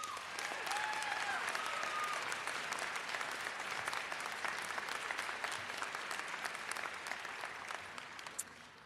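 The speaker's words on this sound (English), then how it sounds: "it would be awesome if you gave Dean Beal a round of applause." Sustained applause from a graduating crowd at a Minnesota State University Moorhead commencement ceremony, a dense, steady wash of clapping that holds for the whole stretch and tapers slightly at the end, with a brief tonal sound early on.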